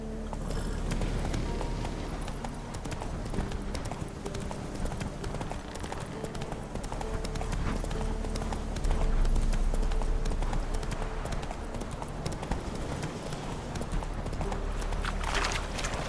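Horse hooves clip-clop steadily at a brisk pace in The Witcher 3, with a continuous rhythmic thudding across the whole stretch over background game ambience, fairly close and clear.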